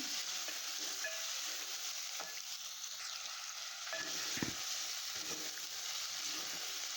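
Half a kilo of chicken frying in a pan with onion and ginger garlic paste, giving a steady, faint hiss of sizzling oil that runs throughout, with a few light utensil taps and one soft thump partway through.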